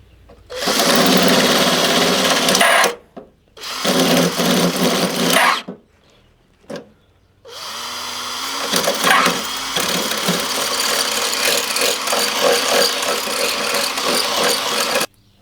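A drill bores through a thick blob of metal weld during a vehicle restoration, grinding in long loud bursts that stop and restart three times, with short quiet gaps between runs.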